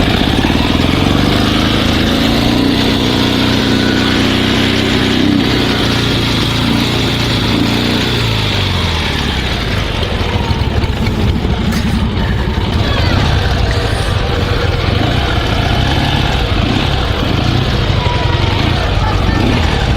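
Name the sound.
Dnepr sidecar motorcycle engine running after repair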